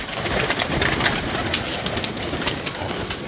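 Flocks of domestic pigeons kept on a rooftop coo and flutter in a dense, continuous outdoor chorus, close and fairly loud, with soft calls overlapping throughout and no clear voices.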